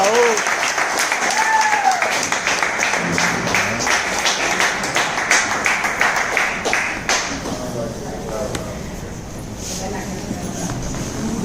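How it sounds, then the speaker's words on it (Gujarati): A hotel meeting audience claps enthusiastically to welcome distributors onto the stage, loud dense applause that gradually thins and softens toward the end, with voices audible beneath it. "એવા સારા ડિસ્ટ્રીબ્યુટર સ્ટેજ ઉપર આવી જાય અને એમને જોરદાર તાળીઓથી આપણે"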